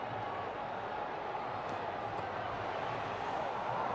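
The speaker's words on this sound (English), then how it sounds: "It's very noisy out there. A very big crowd." A big stadium crowd roars steadily through a night T20 World Cup cricket match between India and the Netherlands, a dense, continuous wash of cheering with no pauses.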